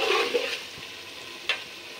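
Rice and lentils are tipped into a pot of cooked chicken for khichuri, making a brief rush and sizzle at first, then a quieter hiss with a single clink partway through.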